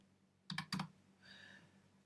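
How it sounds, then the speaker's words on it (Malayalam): A few quick keystrokes on a computer keyboard as a user ID is entered, close and quiet: two short clustered taps, then a softer brief click. "ഇവിടെ നമ്മൾ നമ്മുടെ യൂസർ ഐ ഡി, നേരത്തെ നമ്മൾ കൊടുത്ത ആ ഒരു യൂസർ ഐ ഡി ഇവിടെ നമ്മൾ ടൈപ്പ് ചെയ്ത് കൊടുക്കണം"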